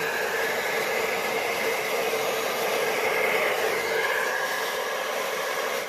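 A handheld blower on its low setting pushes acrylic paint across a surface for a Dutch pour, a steady loud whooshing roar with a faint whine that holds constant throughout.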